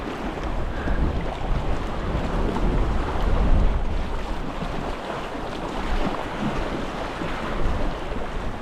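Rough choppy waves on a wild Scottish loch, a steady broadband wash of water with strong wind buffeting the microphone throughout, loud and close with no voices.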